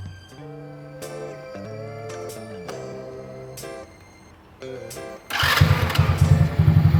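A modified Streetcub motorcycle engine turns over with tonal, harmonic sounds, then fires up in the last couple of seconds into a loud, close, pulsing running note.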